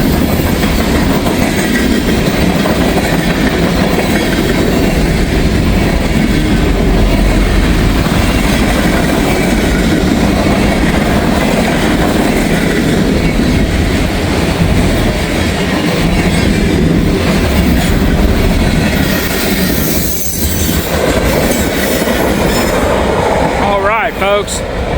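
A long Norfolk Southern freight train rolls past southbound in Walton, a loud, sustained rumble of cars and wheels with faint clatter, close by and steady throughout.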